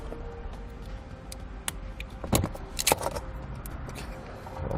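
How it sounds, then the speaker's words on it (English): A utility knife cuts through heat shrink tubing on a vehicle's wire loom. Faint scraping and sharp ticks come in short irregular bursts, close by, against a quiet background. "we'll just take a utility knife and we'll cut through the heat shrink"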